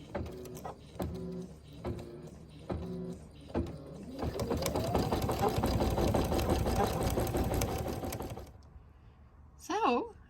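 A domestic embroidery machine stitches foam onto a Halloween bat jar topper, a steady, loud mechanical whir with a rapid needle rhythm running for several seconds. Someone speaks before it starts and briefly after it stops.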